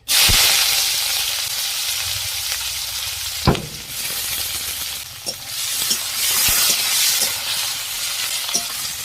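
Dried chili, bay leaf and chopped onion frying in hot mustard oil: a loud, steady sizzle and hiss throughout, broken by a few sharp clinks and stirring knocks.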